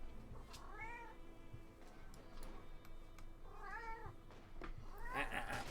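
A house cat meows indoors during a Company of Heroes 2 gaming session, three separate plaintive meows spaced a couple of seconds apart, close but quiet, over faint background noise and clicks.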